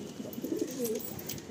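A Madrasi pigeon in a loft gives a soft, low cooing call close by, a short warbling coo that rises and falls once over a quiet background.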